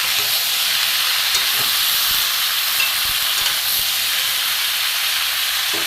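Fish curry with salt and turmeric sizzles steadily in a pan, a loud continuous hiss that runs alone and unbroken, with faint scraping as the contents are stirred.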